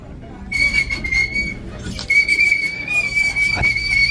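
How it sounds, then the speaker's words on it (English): An old shopping cart in a thrift store squeaks loudly with a steady high-pitched whine, carrying on through most of the moment over general store bustle. "that cart is so loud"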